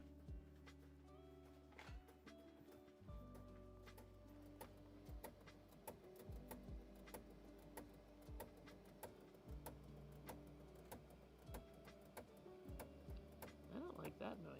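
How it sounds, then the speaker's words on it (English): A 3D printer running with an odd noise, irregular ticks and clicks over a low motor hum with faint shifting whines, fairly quiet throughout. "3D printer was being weird."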